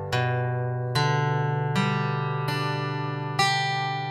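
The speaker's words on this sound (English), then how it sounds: "Pick out the notes one at a time." Notes of a fancy beginner guitar chord picked one at a time, five distinct plucks at an even, unhurried pace, each ringing into the next, close and clear with no voices.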